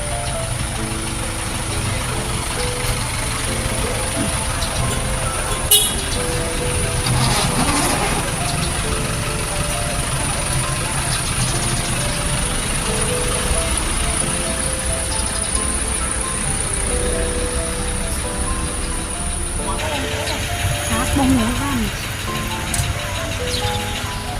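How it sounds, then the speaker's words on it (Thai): A Surin passenger van pulls into a bus terminal, its engine a steady idling hum with traffic and station noise around it and a voice talking over the scene. "เป็นรถตู้สุรินบัวเชษนะมา"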